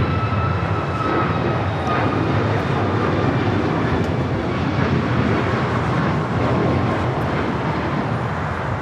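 A jet airliner taking off at LAX, bound for Cleveland, Ohio, gives a steady, loud broadband engine roar that holds level throughout, with no one talking.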